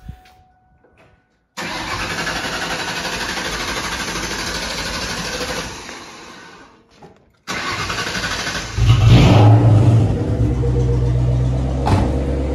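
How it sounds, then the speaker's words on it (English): A Mustang's engine cranks with the gas pedal held down and roars steadily, cuts out briefly, then cranks again and catches, revving louder into a rough, sustained run. "he was priming the engine by holding the gas pedal down"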